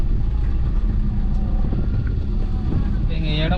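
A car on a village road travels at low speed with a steady engine rumble and wind noise, the pitch dipping as the driver shifts into third gear.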